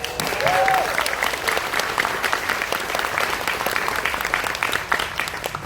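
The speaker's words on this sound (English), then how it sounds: "Give yourself a round of applause." Cruise ship crew applaud at a Virgin company gathering, dense, lively clapping from a crowd filling the room steadily, with some voices mixed in.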